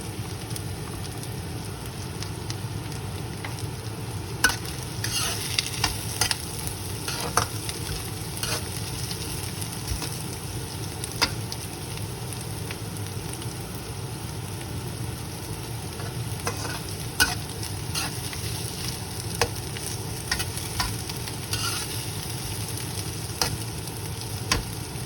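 Garlic and onion sautéing in a pan for beef lengua, a continuous sizzle broken by scattered clicks and scrapes as the spoon stirs.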